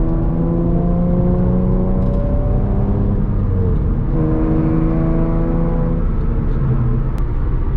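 A 2008-2012 Honda Accord with a KTuner tune revs steadily near and loud, the engine note climbing, dipping slightly around the four-second mark and rising again, with a constant rumbling drone and no talking.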